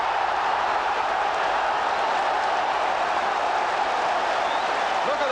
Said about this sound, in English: Look at them applauding in the stands,